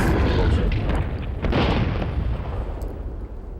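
Loud booming blasts of regular missiles exploding in the video game Duke Nukem 64, a dense burst near the start followed by a second heavy impact and a rumbling fade.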